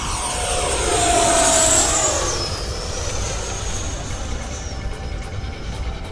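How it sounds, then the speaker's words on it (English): An 80mm E-Flite F-16 RC jet flies past, its electric ducted fan whine rising loud and high as it sweeps overhead, then sliding down in pitch and fading into a steady distant rush. "Got this thing set up the exact same way that my other 80mm E-Flite F-16 is set up."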